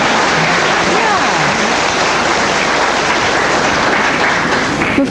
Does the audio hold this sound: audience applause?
yes